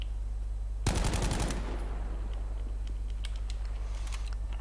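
A weapon fires in Battlefield V as one loud burst of rapid automatic shots lasting under a second, followed by faint clicks and taps over a steady low background hum.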